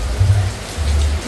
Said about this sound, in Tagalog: Umuulan, umuulan